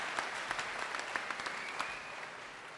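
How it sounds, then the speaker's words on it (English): Audience applause at a college commencement ceremony, even and moderately distant, a continuous wash of clapping with a few sharper claps standing out, steady for the whole short stretch. "Can I get a round of applause for this lady,"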